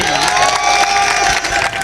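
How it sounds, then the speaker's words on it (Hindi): A kavi sammelan audience at a Hindi poetry gathering cheers and applauds poet Pooja Bharti, a dense, loud wash of clapping and shouting voices that holds steady throughout. "पूजा भारती जी के एक बार जोरदार तालियां पूजा जी के लिए"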